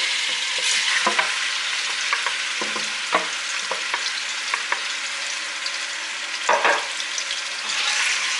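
Pork pieces searing in about four spoonfuls of hot oil inside a pressure cooker, a steady close sizzle with occasional sharper crackles and stirring clatters, no voices.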